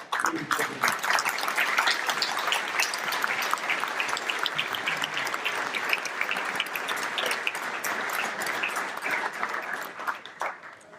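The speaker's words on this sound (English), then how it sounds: "Now we can clap." A crowd at a village groundbreaking ceremony claps steadily and loudly for about eleven seconds, dense applause filling the space and fading slightly toward the end.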